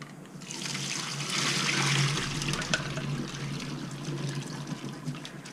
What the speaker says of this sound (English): Now that our noodles are nice and cool from the ice bath,